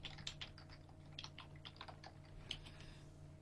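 Rapid, irregular clicking of a computer keyboard during a Master of Orion 2 gaming session, close and fairly quiet over a steady low electrical hum, with no talking.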